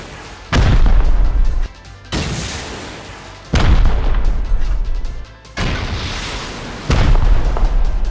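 Rocket launcher blasts in the survival game Rust, four heavy booming shots at roughly regular intervals, each a loud close explosion trailing off into rumbling decay before the next.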